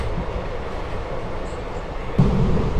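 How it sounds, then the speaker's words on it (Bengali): Teesta Torsa Express passenger train running from Sealdah toward NJP after leaving Bandel, heard from inside a coach as a steady low rumble of wheels on rails that grows louder near the end. "ট্রেন কিন্তু মোটামুটি ব্যান্ডেল ছেড়ে দিয়েছে"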